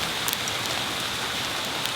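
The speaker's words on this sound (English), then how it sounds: "And then it started to hail, which never happens in California" Hail falling steadily in California, a dense continuous patter on hard surfaces with occasional sharper impacts, close and fairly loud, with no voices.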